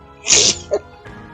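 A single loud, sharp sneeze with a quick intake of breath, close to the microphone, followed by a brief quiet pause.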